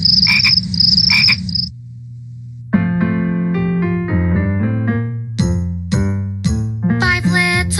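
Cartoon frogs croak in a played children's sing-along about five speckled frogs, a high tinkling chime opening it, then a run of loud, rhythmic, tonal croaks repeating one after another in the foreground.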